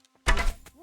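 An arrow striking an archery target in Kingdom Come Deliverance 2: a single solid thunk, close and brief, followed by a short quieter tail.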